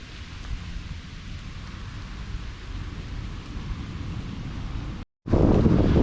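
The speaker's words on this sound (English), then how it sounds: "The rain has started again." Steady rain falling outdoors, a continuous hiss mixed with wind buffeting the microphone, ending in a sudden loud rumble of gusts after a brief dropout.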